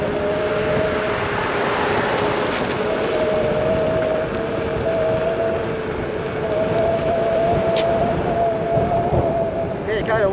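Steady, loud wind roars across the microphone throughout a ride on an electric unicycle over mixed terrain, with continuous broadband buffeting and a faint whining tone running beneath.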